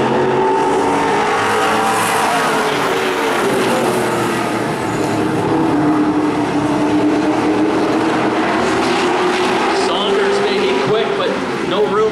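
Pro-stock race cars battle side by side at Wiscasset Speedway, their engines a loud, continuous roar that rises and falls as the pack passes, with an announcer calling the race over the noise.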